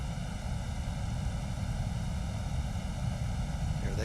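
Jet airliner engines spooling up during start, heard from the cockpit as a steady roar with layered high whining tones holding level throughout, loud and close with no talk over it.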